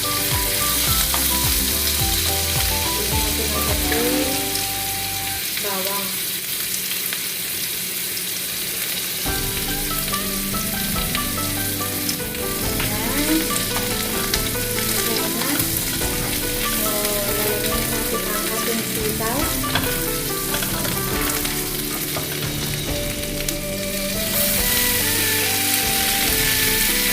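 Garlic fries noisily in a pan and is stirred for adobong sitaw, a loud continuous sizzle over a dense layered background that persists throughout.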